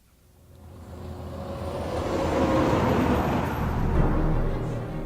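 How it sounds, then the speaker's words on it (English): Downtown Muskegon traffic swelling into a low, continuous rumble, starting quiet and building to a steady broadband roar of passing vehicles with no voices present. "over the rumble of downtown traffic"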